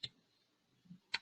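A few isolated computer keyboard key clicks, faint and spaced apart, with a quiet pause between the first tap and the last pair.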